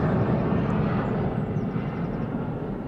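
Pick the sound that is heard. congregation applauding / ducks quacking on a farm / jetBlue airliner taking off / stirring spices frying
jetBlue airliner taking off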